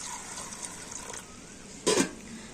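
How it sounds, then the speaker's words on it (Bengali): Water poured from above onto sago pearls in a bowl, a faint low trickle followed by one brief, louder splash near the end. "সাবুদানার মধ্যে আমি একটু জল দিয়ে দেব"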